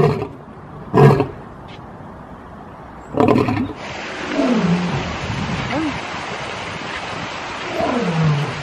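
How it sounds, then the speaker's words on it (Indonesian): A toy lion sounds off with a loud roar, heard as a couple of short bursts, under a child-friendly voice talking excitedly nearby. "Wow, ada singa. Singa si raja hutan ya teman-teman."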